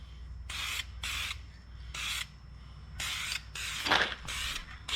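Spray can laying a first light coat of paint on wheels, heard as a series of short hissing bursts, about eight of them, each under a second, separated by brief pauses, fairly close and loud.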